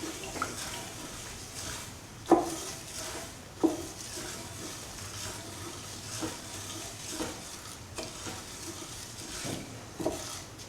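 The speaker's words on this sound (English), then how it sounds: "Keep on stirring." A pot of green gram coconut stew on high flame is stirred, giving soft watery sloshes and scrapes with a few sharper knocks of the spoon against the pot spread over several seconds, with no one talking.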